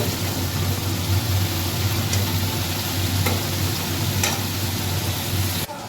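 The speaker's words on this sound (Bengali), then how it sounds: "আদা রসুন পেঁয়াজ টমেটো পেস্ট জিরের গুঁড়ো লঙ্কার গুঁড়ো সমস্ত কিছু দিয়ে একটু কষিয়ে নিচ্ছি" Ginger, garlic, onion, tomato paste, cumin and chili powder frying in a pan for a spiced fish dish, a dense, loud, steady hiss with a few faint clicks, cutting off abruptly at the end.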